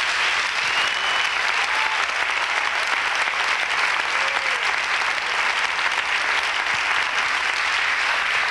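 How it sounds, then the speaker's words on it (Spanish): Sustained, loud applause from a church congregation fills the space evenly from start to finish, with no talk over it. "Démosle palmas fuertes."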